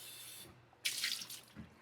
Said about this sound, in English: we're going to steam the veggies in one pan with about 2 cups of water